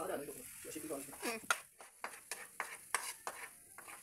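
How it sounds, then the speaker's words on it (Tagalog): Minced garlic sautéed in a pan for spicy tuna spaghetti, stirred with a utensil in a run of quick, regular scrapes and taps that grow steadier toward the end, close and fairly quiet, with soft talk at the start. "Haluin. Igisa ng mabuti."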